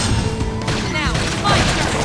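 A flame grenade attack in Xenoblade Chronicles X Definitive Edition sets off a loud burst of crackling, booming blasts with a whooshing sweep, layered over other busy combat effects.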